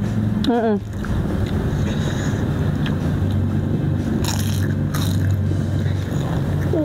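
Crunchy Indonesian fried snacks (gorengan), still hot and eaten with sambal, crackle in steady close-up bites and chews under a continuous noisy background, with talking mixed in.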